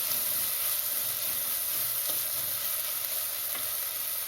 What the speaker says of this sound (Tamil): வெங்காயம் வதங்க உப்பு போட்டுக்கலாம். உப்பு போட்டால் சீக்கிரம் வதங்கும்.